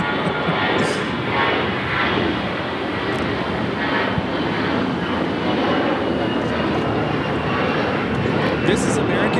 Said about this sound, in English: 1995 taking off on this A321.